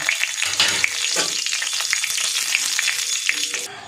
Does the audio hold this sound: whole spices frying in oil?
yes